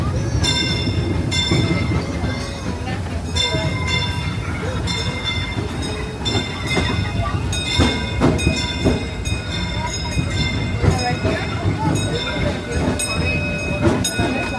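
A Disneyland Railroad steam train rolls on steadily with rumbling and clattering wheels, mixed with background music and occasional squeaks throughout.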